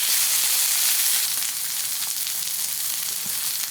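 Stuffed pork chops sear in a hot pan with a loud, steady, close hiss of sizzling fat that runs evenly throughout, with no talking.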